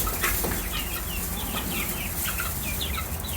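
Leghorn and buff Orpington chicks in a brooder give high, scattered peeping chirps over a steady background hiss, with a few soft flutters, close and moderately loud.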